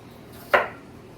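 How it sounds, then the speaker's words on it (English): A single sharp knife chop through jicama on a cutting board, a crisp close thud standing alone with quiet room tone around it. "So I just cut it up in little chunks like this."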